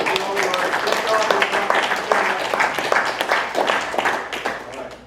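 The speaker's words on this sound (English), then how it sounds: "Now we can clap." An audience at a school district board of trustees meeting claps in a dense, sustained burst of applause lasting several seconds, with voices talking over it.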